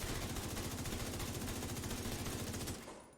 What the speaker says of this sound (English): Let's empty 1 mag into this target